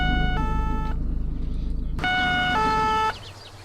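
Two-tone French gendarmerie siren from the Arma 3 video game, loud and steady, alternating high and low pitches in a repeating hee-haw pattern with a short break midway, no talk over it.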